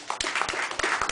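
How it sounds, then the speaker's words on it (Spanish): Scattered clapping from a small crowd at a literary and arts café event, a brief burst of applause with uneven claps. "con el querido amigo Oscar La Higuera, por quien pido un fuerte aplauso"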